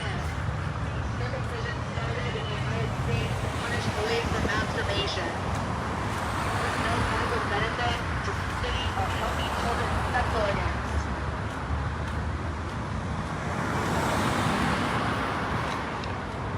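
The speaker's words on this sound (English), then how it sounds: "you can see the traffic. It's just been building up like this all day long." Traffic at a busy intersection in Springfield, Pennsylvania: a continuous rumble of cars and passing vehicles under nearly constant talking and crowd murmur.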